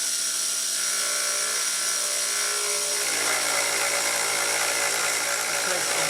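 A Taig mill takes fine finishing cuts on steel T-nuts, making a steady, loud high whine with a grinding edge that thickens partway through, continuous with no pauses.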